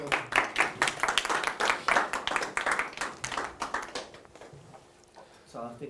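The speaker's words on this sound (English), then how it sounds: "Maybe a round of applause" An audience at a lecture on Christian responses to Islam breaks into applause, a dense burst of clapping that swells then thins out over several seconds before fading, with a voice speaking near the end.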